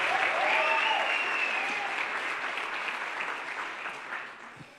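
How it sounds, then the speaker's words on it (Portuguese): Church congregation applauding loudly in a sustained burst of clapping that holds steady and then slowly fades, with a few voices cheering over it. "Você pode aplaudir mais forte e dar um brado de júbilo ao nosso Deus"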